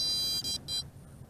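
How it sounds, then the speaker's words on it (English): Helifar B3 Epik GPS brushless RC quadcopter giving a high electronic double beep, two short close tones in quick succession over a low background hum, signalling readiness for accelerometer calibration. "I believe that was a double beep indicating that we are ready to calibrate the accelerometer."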